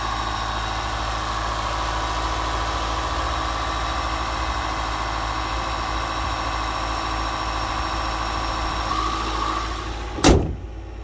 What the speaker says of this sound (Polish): a jak poczekacie chwilę, to odpala się silnik spalinowy